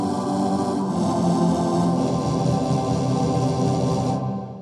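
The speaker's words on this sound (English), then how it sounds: "So I'm gonna solo the CR8 sampler so we can hear what that sounds like." Soloed CR8 sampler layer of a Waves StudioVerse instrument plays a dense, sustained synth-like tone with steady rich harmonics, loud and continuous before fading out at the end, with no voice over it.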